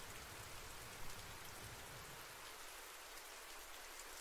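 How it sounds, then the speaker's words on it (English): Heavy rain rushing down outside, a dense, even hiss of drops on surfaces that continues without pause and without any voices. "the rain is rushing down outside"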